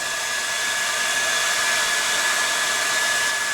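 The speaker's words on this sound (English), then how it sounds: "I just came up with this hairdryer trick myself." Hair dryer blowing steadily at close range on brittle plastic of a 20-year-old truck, a constant loud whooshing hiss with a faint motor whine, no talking.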